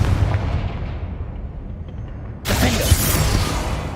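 A Confringo fire spell in Hogwarts Legacy lands as a sudden loud blast, cutting through a low rumbling background and leaving a sustained roaring, crackling burst.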